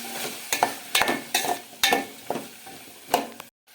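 Potatoes and peanuts being stirred in a pan, about eight rhythmic scraping strokes close up, each a short sizzling swish, before the sound cuts off.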